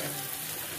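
Chopped onion and green chillies with salt and turmeric sauté in hot oil, a steady close sizzle and gentle frying crackle throughout a brief moment, no voices over it.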